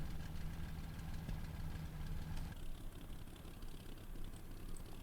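A World War II aircraft engine in the IL-2 flight game idles with a low, throbbing rumble that cuts out partway through, leaving a quieter mechanical hum and faint rattles.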